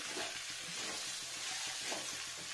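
Chicken polow sizzling in a pan as it is stirred, faint steady frying hiss with soft scraping strokes, no voices.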